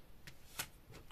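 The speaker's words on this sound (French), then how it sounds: "Alors, je tire 6 cartes" Tarot cards being drawn and laid on a table, a few soft separate slaps and slides spread over a quiet moment, one crisper card snap standing out near the middle.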